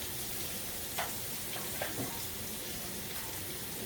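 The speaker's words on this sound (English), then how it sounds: "while my fish is frying" Blackened catfish sizzles steadily in a frying pan, a constant close crackle of hot oil with a couple of light clinks over it.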